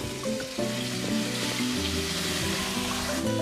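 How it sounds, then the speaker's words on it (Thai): Pounded chili and garlic stir-fry in a pan over medium-low heat at a rustic camp kitchen, a steady close sizzle with scraping stirs running throughout, no voices. "ทำด้วยพริกกระเทียมที่เราโขลกไว้ค่ะ ใส่ลงไปผัดให้หอมนะคะ"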